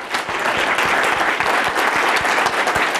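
An audience at a bike summit keynote breaks into a full round of applause, sustained and dense, with individual claps standing out against the wash of the crowd.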